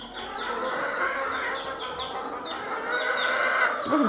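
Hens cluck in a steady, busy chatter with a rooster's calls mixed in, fairly close, filling the whole stretch without pause, as feed is given.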